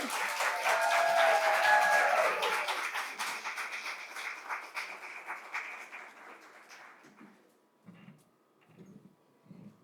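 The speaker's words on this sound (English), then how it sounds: "Please, let's give a big round of applause to Dr. Tina Richardson." Audience at a pitch competition event applauding, loud dense clapping that gradually thins and fades to scattered claps and quiet room noise.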